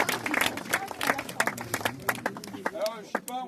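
Audience at an outdoor public gathering clapping in scattered, uneven bursts, a thin patter of hands close by, with people talking over it throughout.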